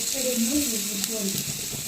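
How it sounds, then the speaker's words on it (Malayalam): Grated coconut roasting in a hot pan, a steady soft sizzle and crackle running continuously at close range, with faint low murmurs beneath. "നമ്മുടെ തേങ്ങയൊക്കെ ഒന്ന് വറുത്തെടുക്കാം കേട്ടോ അപ്പൊ തേങ്ങ ഇട്ട് കൊടുത്തു"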